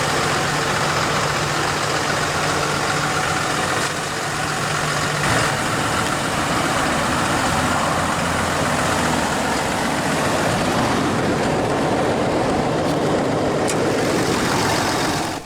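A 2012 Ram 3500 Laramie Mega Cab with a high-output Cummins 6.7-liter turbodiesel inline-six idles steadily, a loud, even diesel rumble with a faint low drone early on, running alone without pause.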